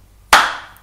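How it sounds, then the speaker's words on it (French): A single sharp burst of clapping or applause, with a quick onset and a slowly fading tail lasting about half a second, heard alone after a brief near-silence to welcome the host of a board-game show. "applaudissons-le ensemble"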